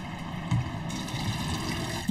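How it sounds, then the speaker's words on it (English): Tap water runs steadily into a container in a home kitchen, making a soft continuous trickle with a few small splashes, quiet and close, with no talk. "I'm just going to add some water from the tap"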